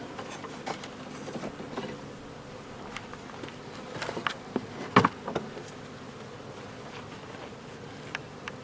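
Honeybees from a package hive buzz and hum steadily close by while drawing out comb, with scattered faint taps and rustles from the hive.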